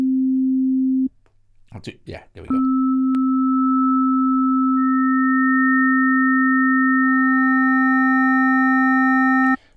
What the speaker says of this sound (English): We can move up each of these 8 sine waves